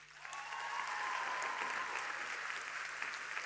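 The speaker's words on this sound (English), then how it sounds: "let's give a big round of applause to him" Audience at an outdoor or hall event breaks into applause, starting quietly and quickly swelling into sustained, even clapping that holds steady through to the end, heard at a moderate distance with faint crowd noise.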